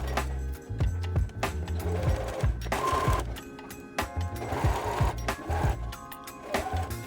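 A sewing machine runs a straight stitch through blanket fabric in short rhythmic bursts, its needle chattering steadily with brief pauses between runs, close and fairly loud with no talking.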